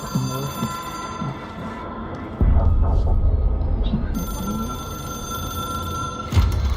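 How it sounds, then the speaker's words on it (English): A telephone rings in the video game Control, heard under talk and ambient game sounds, with a louder low burst partway through. "It is a phone."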